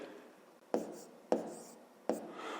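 A pen writes numbers on paper in three short, distinct strokes, soft and close in a quiet room.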